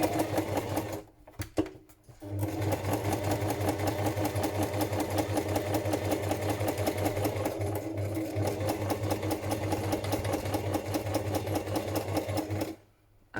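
Sewing machine running steadily while free-motion stitching a messy journal cover, a loud continuous whirring motor with rapid needle ticks, pausing briefly near the start and stopping at the end.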